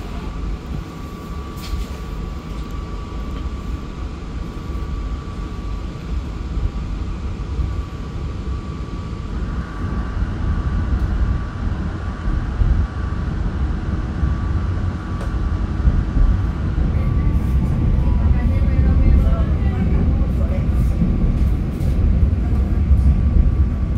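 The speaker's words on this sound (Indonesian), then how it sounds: "kita memulai perjalanan perdana kereta api Ranggajati dengan kereta ekonomi New Gen" Heard from inside, the Ranggajati economy New Generation passenger train runs after leaving Cirebon station, a steady low rumble of wheels on track with a faint hum, growing a little louder and heavier toward the end.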